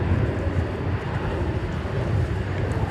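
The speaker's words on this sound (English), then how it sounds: "Air Canada Flight 1033 coming in." Steady broad jet rumble from an Air Canada airliner landing at DFW Airport in Dallas, a continuous roar without gaps, with some wind buffeting on the microphone.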